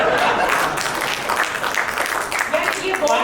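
A crowd claps steadily as someone walks onto the stage at a Bhojpuri film industry cricket league event, with the applause running throughout alongside voices.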